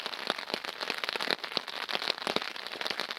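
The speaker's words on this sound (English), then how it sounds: "The rain has started again." Rain pattering at a hammock campsite in the UK during a thunderstorm, a close, fairly soft patter of drops with scattered sharper taps on a nearby surface.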